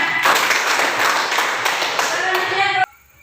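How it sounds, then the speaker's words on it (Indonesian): A classroom audience claps after a student group's presentation: dense, loud, steady hand clapping that stops abruptly near the end. "Tepuk tangan."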